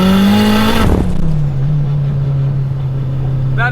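A turbocharged K-swapped Honda Integra Type R DC2 at light throttle in second gear, its engine droning steadily with a rising turbo whistle layered on top, loud and close inside the cabin, broken by a brief gear-change thump.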